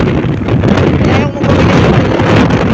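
Strong wind roars and buffets the microphone during a solo motorcycle ride to the Liloan port, a loud continuous rushing with a brief dip partway through.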